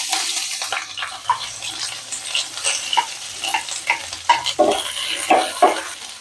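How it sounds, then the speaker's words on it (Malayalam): Sliced onions fry in hot butter in a pan while a spoon stirs and scrapes them, giving rhythmic, close scraping strokes over a sizzling hiss, with no voices. "ഞാൻ ഇതിനകത്തേക്ക് സവാള ചേർക്കുക."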